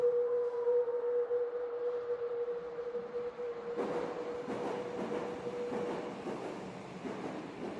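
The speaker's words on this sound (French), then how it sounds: "Laura nous immerge en temps réel le long du métro de Hambourg" A Hamburg metro train running, with a steady electric motor whine and rumbling rail noise that swells into rhythmic clatter as it speeds along, close and continuous with no voices.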